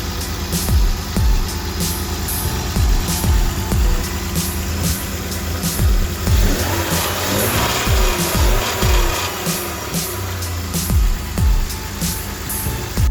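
A BMW E36 engine with a modified intake filter idles close by, a steady low mechanical hum overlaid by regular rhythmic ticking pulses throughout.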